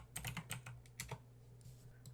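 Fingers typing a web address on a computer keyboard, a quick burst of several clicking keystrokes followed by a few sparser taps, close and fairly quiet over a low steady hum.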